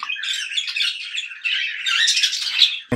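Yellow Fischer's lovebirds squawk loudly and continuously in a close, dense chorus of harsh, overlapping calls, ending with a sudden thump.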